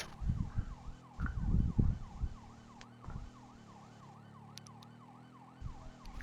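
Police car siren in Grand Theft Auto V, its rising and falling wail sweeping steadily through the whole stretch at moderate distance, with low vehicle engine rumble and bumps underneath.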